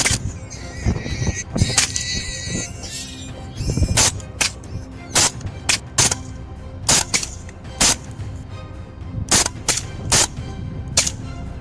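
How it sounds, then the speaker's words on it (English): Rifle shots crack through the night during a wild boar hunt, roughly a dozen sharp, loud reports at uneven intervals, some in quick pairs, over a low background rumble. "The shot split the night air, sending the herd into a frenzy."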